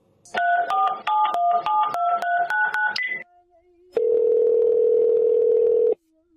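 A telephone dials a phone-in caller with a rapid run of about eleven loud touch-tone beeps, followed after a short pause by a steady two-second ringing tone.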